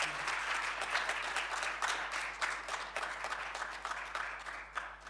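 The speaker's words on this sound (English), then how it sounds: "Can we give a round of applause?" An audience at a coding initiative launch event claps steadily, a dense sustained round of applause heard from within the room.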